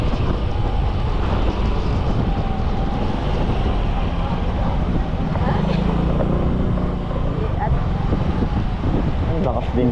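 Motorcycle ride on a road in Boracay, a steady engine and wind rumble running throughout, with voices talking over it.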